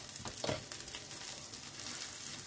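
Small, thin reconstituted steaks for mini burgers fry in a pan, giving a soft, steady sizzle with a few brief louder crackles and no voices.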